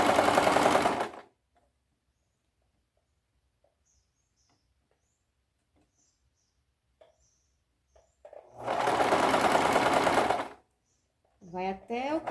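Domestic sewing machine stitching the side seam of a fitted double-sleeve sheath dress, running in two short bursts with a long quiet pause between; a voice speaks briefly at the end.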